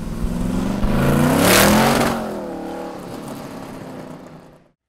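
A 1965 Shelby Cobra CSX with an all-aluminum engine revs hard nearby, the roar climbing to a peak and then falling away as the revs drop and die out.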